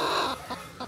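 A farm hen clucks in several short, quick calls close by, a brief cluster of sharp clucks without any talking.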